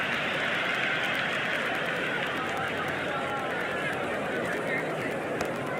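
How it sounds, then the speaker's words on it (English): A large cricket stadium crowd roars continuously after a big hit over the boundary in a New York versus Bengal match, a dense, loud, sustained wash of cheering with no break throughout. "The crowd is electric right now."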